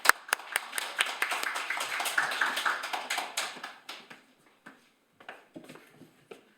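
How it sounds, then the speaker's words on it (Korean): A small audience claps to welcome a speaker onto the stage, a dense burst of applause that thins out into a few scattered final claps. "큰 박수로 모시겠습니다"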